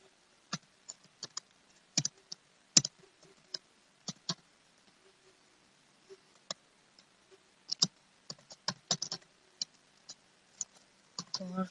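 HTML code is typed for a table on a computer keyboard, giving irregular bursts of light clicking keystrokes with quiet pauses between them, close and faint, with no talk.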